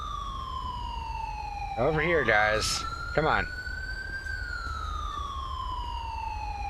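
A wailing ambulance siren in GTA V sweeps slowly up and down, steady and prominent throughout, while a man briefly calls out in the middle.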